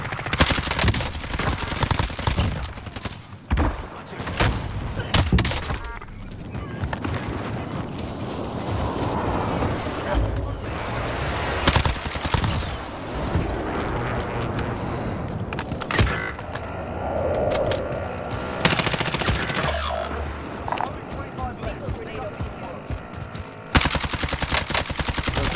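Gunfire in an online shooter game, including Kar98 rifle shots, a dense, loud stretch of repeated blasts and rattling bursts with a few sharp cracks standing out near the end.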